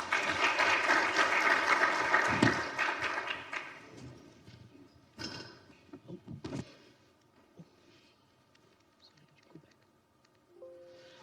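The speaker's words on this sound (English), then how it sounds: "Please, round of applause." An audience applauds at a conference talk, clapping loudly for about four seconds before it thins out into scattered claps, shuffling and a quiet room.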